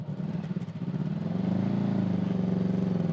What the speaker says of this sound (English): Press the engine start.